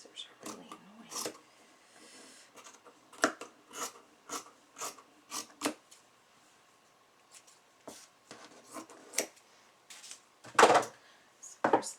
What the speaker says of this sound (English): these scissors are really annoying.